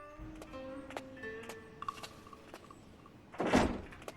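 A temple door opens in an animated story, a quiet creaking with a few soft knocks, then a louder wooden thump near the end.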